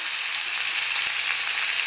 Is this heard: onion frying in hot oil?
yes